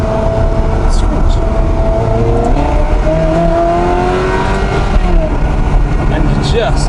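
A Ferrari engine revs loud and close, its pitch sweeping up and down over a heavy, rumbling roar that fills the whole stretch.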